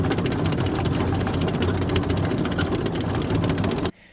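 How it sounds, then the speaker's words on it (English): Track sound effect from a Unity3D game plays as a loud, continuous rumbling, rattling mechanical noise like a rolling vehicle on rails, running steadily before stopping abruptly near the end. "I've also got track sound effects, which sound like this."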